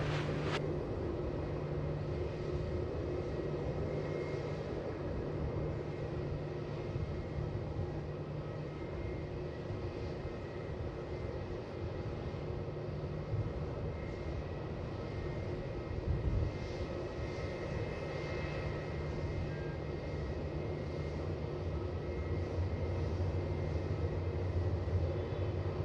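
An airliner takes off from runway 27 at Melbourne Airport, its engines giving a steady, broad roar heard from a distance that holds evenly for the whole stretch.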